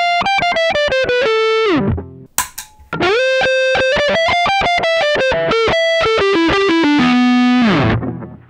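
An electric guitar played through a Klon KTR overdrive pedal gives a gentle, warm distortion on loud, close single-note phrases that bend and sustain, with a short pause of scratchy noise before a second phrase ends on a long held note.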